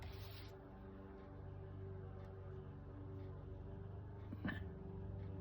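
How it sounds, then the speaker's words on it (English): A low engine drone hums steadily in the background, faint and distant, with a brief knock near the end. "I actually like the sound of the lawnmower."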